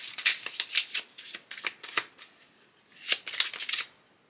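Rainbow Kipper oracle cards are shuffled by hand in a series of quick, papery riffling bursts, close and fairly soft, with short pauses between rounds and no talking.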